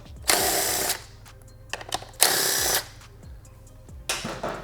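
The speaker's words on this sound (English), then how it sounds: "We'll use a 10mm socket for the middle screws, followed by an 8mm socket for the lateral screws." Socket wrench ratcheting screws out of the tray on a 2021+ Aprilia RS 660, a 10mm socket for the middle screws and an 8mm for the lateral ones: three bursts of close, loud rasping clicks with quiet gaps between.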